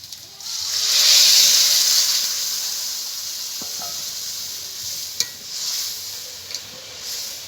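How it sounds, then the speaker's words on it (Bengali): Water poured into a hot pan while cooking aloo dum bursts into a loud sizzling hiss that slowly fades to a softer simmer, with a couple of sharp clinks near the end. "এবার জল দিয়ে দেবো।"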